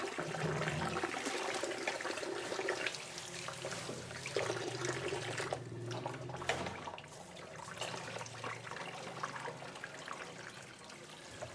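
Soaked lentils being rinsed under running water in a home kitchen, with a continuous tap stream splashing and trickling close by for the full length, no voices.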